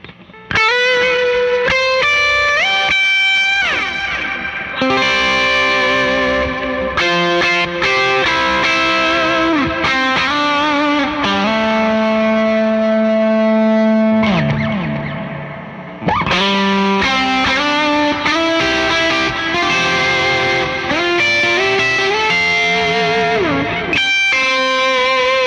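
Electric guitar played through a Twilight Pulse Audioworks Konstante pedal with extra gain, heavily distorted lead phrases with sustained notes and bends, loud and continuous, with a brief dip in the middle before resuming.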